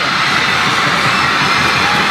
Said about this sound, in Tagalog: And the crowd goes wild once again.